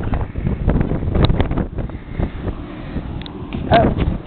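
Wind gusts buffet the microphone on the open top deck of the Carnival Imagination cruise ship at sea, a rough low rumble with rustling surges. Voices speak faintly in the background.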